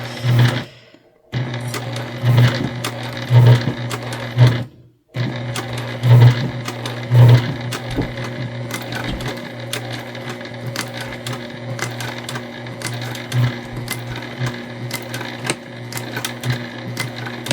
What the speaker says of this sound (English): You can hear it, the machine going through the thicker material.